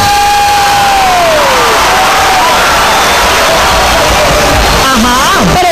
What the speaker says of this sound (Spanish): Otro aplauso para Andresito